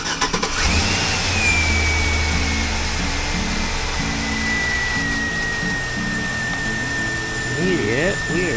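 Car engine cranking and then running during a battery charging test by a mobile mechanic, a steady engine hum with a whining tone over it and voices talking briefly.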